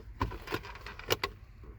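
Car keys jangle inside a Subaru GF8 Impreza: several short, close metallic clinks and rattles in uneven bursts over a quiet cabin background.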